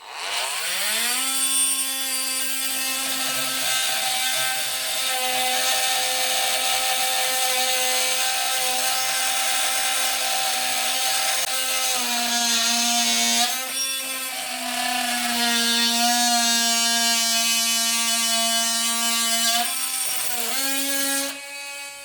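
A Parkside PAMFW 12 C3 cordless multi-purpose tool with a plunge saw blade cuts wood. Its loud, close motor whine holds steady for a long stretch, dipping briefly in pitch a couple of times as the blade bites.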